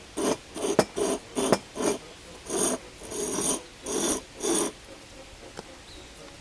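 Metal being ground down to make a contact point on a rusty piece prepared for electrolysis rust removal: about eight short, rhythmic rasping bursts close by, with pauses between them, then a quieter stretch.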